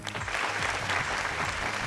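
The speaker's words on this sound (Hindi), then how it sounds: "अब जोरदार तालियों के साथ स्वागत करते हैं हमारे महागुरु अरविंद जी का।" A studio audience on the TV dance show Nach Le Bindani gives dense, continuous applause to welcome the judges, a steady wash of many hands clapping at once, with no pauses.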